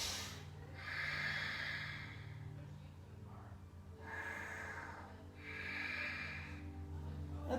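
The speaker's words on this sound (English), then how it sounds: "Breathe." Slow, deep breaths during a morning flexibility and strength workout, several long inhales and exhales spaced a few seconds apart, close and soft, over a quiet background hum.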